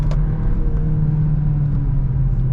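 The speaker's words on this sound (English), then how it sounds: "A little bit of sound from the exhaust, like almost that pops and crackle. Engine is very loud" Engine and exhaust of a 2023 Hyundai Elantra N Line while driving, a loud steady low drone with constant road rumble, close and continuous without talk.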